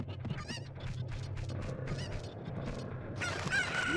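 Chickens in the video game Zelda: Ocarina of Time cluck and squawk in a busy run of calls over a steady low game hum, with a brighter sustained tone rising near the end.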